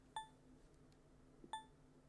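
Two bright electronic chimes ring about a second and a half apart, each a short stacked tonal ping, from the phone mail notification in the Persona 3 Reload video game, faint and with no talking over them.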